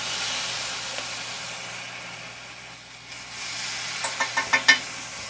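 Garlic frying in a pan, a soft steady sizzle close by, ending with a quick run of five rhythmic stirring scrapes.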